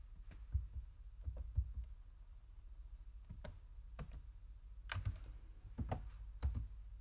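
Faint typing on a computer keyboard in a laser-engraving software setup, with a scattering of soft, irregular key clicks in short clusters over a low background hum. No one speaks.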